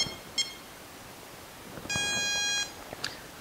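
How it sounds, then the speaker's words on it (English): An ESC on a 3-cell battery gives its power-on tones: a short beep chirp, then a sustained, steady electronic tone with a clean harmonic stack, and a brief final chirp. The tones are close and clear over quiet background hiss, with no talking. "You're going to hear the power on tone, three quick beeps, followed by the"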